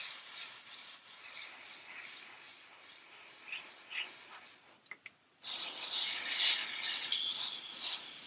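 Airbrush spraying thinned Vallejo Model Color acrylic paint, a steady loud hiss bursting on after a few quiet moments and brief test puffs, then holding continuously to the end.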